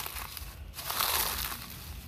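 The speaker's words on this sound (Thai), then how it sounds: "ส่วนมากก็จะใช้วิธีขยำนะครับ ให้แตกไปเลยนะครับ" Siamese rosewood seed pods squeezed by hand to crack them open, giving a close, quiet crunching and crinkling that swells briefly and then fades to a soft rustle.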